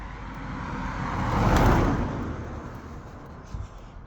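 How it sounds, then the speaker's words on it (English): A car passes close by on the road, its tyre and engine noise swelling to a peak midway and then fading away, with faint traffic rumble before and after. "I'm surprisingly relaxed considering how close that car was"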